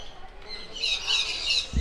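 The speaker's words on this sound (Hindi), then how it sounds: "यहाँ पे तोते ज़्यादा हैं" Parrots at Indore zoo give a shrill, drawn-out squawking from a short distance, with a brief thump at the end.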